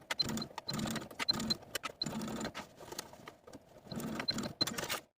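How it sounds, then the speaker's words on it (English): A home sewing machine bastes a zipper into a pair of pants in quick bursts of rapid stitching, separated by short pauses, each run a whirring, clattering mechanical buzz at moderate volume. "Take it to your sewing machine and baste the zipper in place."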